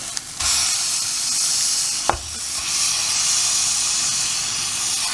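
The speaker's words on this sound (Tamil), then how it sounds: "கொஞ்சம் கூட எண்ணெயை போட்டுக்கலாம். கொஞ்சம் நேரம் வதங்கட்டும்." Masala sautés in oil in a pan while cooking a chicken kothu curry, a steady close sizzle and hiss with a sharp scrape or stir near the middle.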